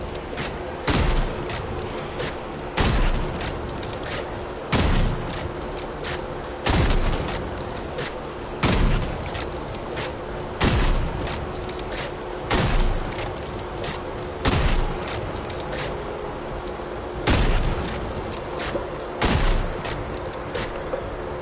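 Video game gunfire crackles in loud bursts of rapid shots, each burst followed by a short lull, repeating regularly throughout with booming impacts.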